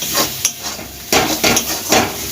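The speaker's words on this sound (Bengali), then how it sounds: "ভালো করে মশলাটা দিয়ে কষিয়ে নিতে হবে" Mushroom curry cooks in a pan with Kashmiri chilli powder and spices, stir-fried with four or five brisk scraping strokes over a soft, steady sizzle, close and fairly loud.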